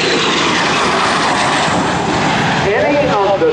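A MiG-17 jet fighter in its trainer version roars steadily overhead at the 2011 AirPower Over Hampton Roads air show, a loud, continuous engine rush with a public-address announcer talking over it.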